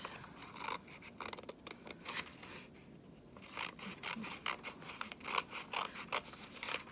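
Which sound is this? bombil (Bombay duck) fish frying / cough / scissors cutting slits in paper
scissors cutting slits in paper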